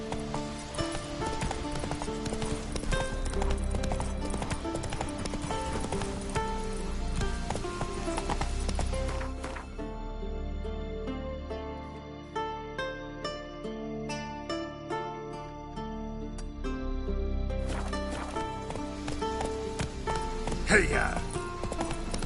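Roach the horse gallops in The Witcher 3, rhythmic hoofbeats clip-clopping under a steady music score, with the music thinning midway before swelling again.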